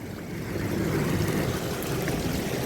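Steady rushing water from a waterfall feature at MOA Sky, an elevated open park at the Mall of Asia overlooking Manila Bay, forms a broad, continuous wash heard up close with no talking.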